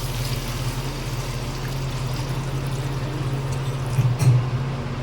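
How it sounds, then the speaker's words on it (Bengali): Milk pours steadily into bottle gourd fried in ghee for halwa, a continuous even liquid stream with a low hum beneath and a slight swell near the end. "এবারে এর মধ্যে দিয়ে দেব আমি দুধ দুধটাকে আমি প্রথমেই ফুটিয়ে রেখেছিলাম"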